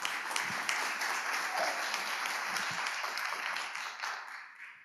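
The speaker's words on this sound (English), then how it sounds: "Please give a round of applause." A crowd applauds a speaker welcomed onstage at Argo's 2018 debut stage event in Seoul, a dense, steady wash of clapping filling the hall before tapering off slightly at the end.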